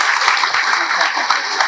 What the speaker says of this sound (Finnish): Annetaan vielä aplodit.